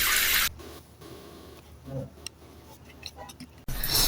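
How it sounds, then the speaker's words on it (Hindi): A shower runs loudly at the start and end as a hissing spray, with quieter splashes and handling noises between the bursts. "चलो मैं शावर ऑन कर देती हूँ"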